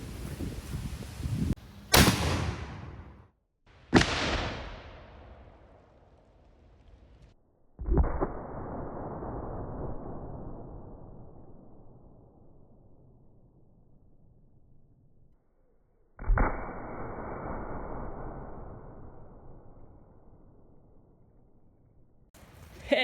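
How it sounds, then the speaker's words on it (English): A cannon fires a rock at a cinder block wall outdoors: four loud, sharp blasts, each trailing off in a long rumbling decay, with stretches of near silence between them. "let's load up something else and see what our cinder block wall can take from our cannon"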